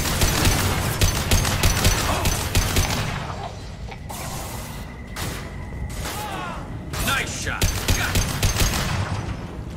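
Rapid bursts of automatic gunfire and fusillades from a Mass Effect 2 firefight, loud and dense in the opening seconds, then thinning into scattered shots and mechanical effects with occasional voices.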